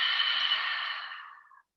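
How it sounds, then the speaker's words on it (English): A slow, steady cleansing exhale, like the wash of ocean surf, breathed out close and softly for almost two seconds before fading away. "it's called a cleansing breath."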